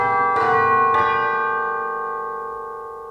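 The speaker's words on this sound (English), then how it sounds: "And we also bring back, I really love them, the BBC tubular bells." BBC tubular bells in an orchestral piece strike twice in quick succession, bright metallic tones with long shimmering overtones that ring on and slowly fade, loud and close with no talking.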